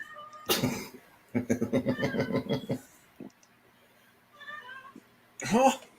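A pet cat named Sapphire meows repeatedly for attention, a rapid run of close, loud cries followed by a few softer calls and one last strong meow, with brief coughing-like bursts in between.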